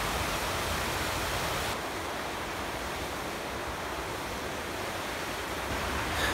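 Steady broadband rush of river rapids flowing near a dam in winter at Mew Lake, Algonquin, heard close and loud, continuous without pause or voices.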